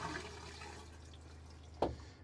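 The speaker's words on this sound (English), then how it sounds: "Now we're going to see what's coming out of the toilet." A camper toilet flushes water through its lines during dewinterizing, with a steady low rush of running water and a sudden sharp gurgling surge near the end, close and moderately quiet.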